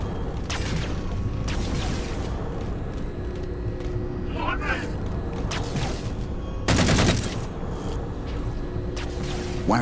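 Gunfire strikes a ship in an action film battle scene, with rapid bursts and sharp impacts over a dense, continuous rumble of engines and mechanical noise, plus a loud burst of fire near the end.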